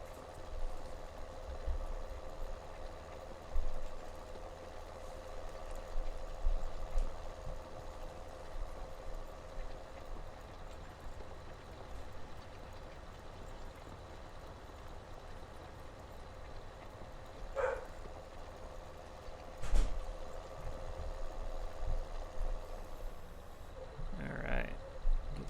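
Small tractor engine idling steadily in Farming Simulator 19, a low continuous hum with faint mechanical rattle, a few brief clunks and knocks near the end.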